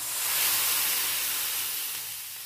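Lemon juice added to hot oil tempering for lemon rice gives a steady broadband sizzle and hiss, fairly loud and continuous, easing off slightly toward the end.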